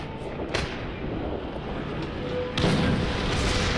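A tank cannon fires in War Thunder, a broad booming blast with a short rumbling tail, then a second louder shot near the end over steady battle noise.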